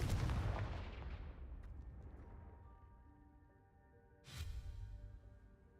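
Confringo blasting spells explode in Hogwarts Legacy, a heavy booming blast that rings out and fades, then a second sharp burst lands a few seconds later.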